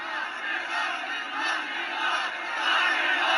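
A large crowd at a political rally cheers and roars continuously, loud and dense, swelling toward the end.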